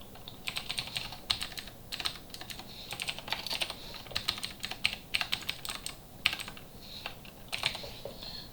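Fingers type steadily on a computer keyboard during an HTML coding lesson, with quick bursts of clicky keystrokes broken by short pauses, close and fairly quiet, with no talking.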